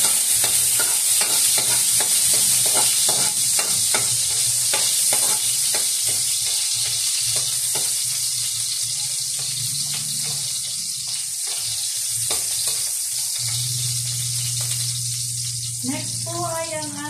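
Garlic fries in hot cooking oil with a loud, continuous sizzle, overlaid by repeated scraping stirs and a low background hum.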